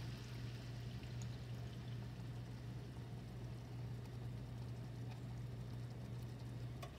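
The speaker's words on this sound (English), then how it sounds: "And then we're going to basically pour in our beef broth." Beef broth is poured into a pan for Swedish meatballs made from home-canned meat, a steady, soft splashing pour that runs evenly for several seconds over a low hum, with no talk.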